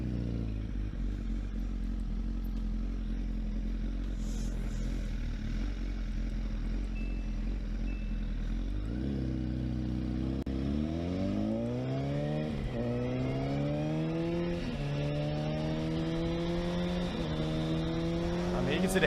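Motorcycle engine from a played online video of an epic Philly motorcycle versus helicopter clip: steady loud rumble, then repeated rising revs climbing through gear shifts, continuous and close.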